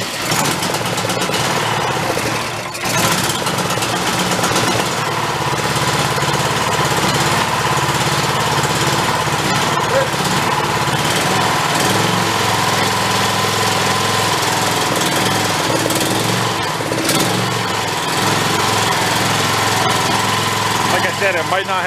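The engine of a Chinese-made skid steer, choke applied, runs loud and steady with a rough, knocking tone throughout, and a voice is faintly audible under it.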